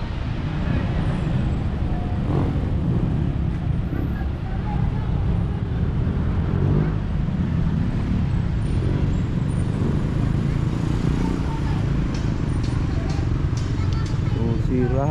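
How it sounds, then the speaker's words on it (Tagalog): Road traffic rumbles in a constant, loud wash outside a cathedral on a city street in Cebu City, Philippines, with engines passing continuously while someone talks over it. "traffic yung makita to sa gawas ng Atbang Cathedral."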